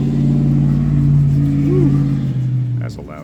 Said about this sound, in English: That's a loud truck.